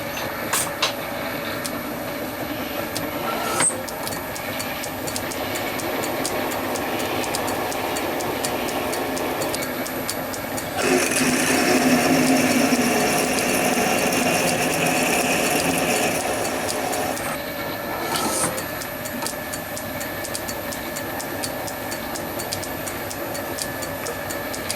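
A Lorch lathe fitted with a metal-spinning attachment runs with a steady mechanical whir and rattle, rising into a louder, harsher grinding roar for several seconds midway before settling back, with no talk.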